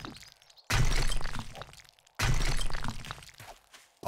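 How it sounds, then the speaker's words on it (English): Rocks smashed for nitrate in 7 Days to Die: two loud, sharp crashing impacts about a second and a half apart, each breaking into a gritty crumbling rattle that fades before the next blow. "Let's go and smash these rocks because we know there's fucking nitrate in them."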